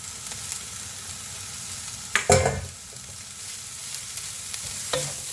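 Strained noodles tossed with fresh vegetables in a hot pan give a continuous close frying sizzle, with a sharp clattering stir-and-toss burst partway through and no talking.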